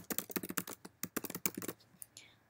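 Rapid, close clatter of a computer keyboard as text is typed into a page layout program, keys tapped in quick bursts that slow to a few scattered strokes at the end, with no voices.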